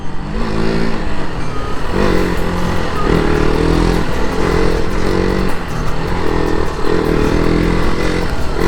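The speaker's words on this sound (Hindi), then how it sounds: "तीन बाइकों में रेस लगी अभी।" Several motorcycles race along a road, their loud engines droning and revving continuously with rising and falling pitch, close by and without speech.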